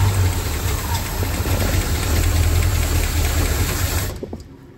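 Engine of a 1966 Ford Mustang GT, parked for ten years and primed with starter fluid, cranking and catching with a loud, close, rough, steady mechanical chatter for about four seconds before it abruptly dies away.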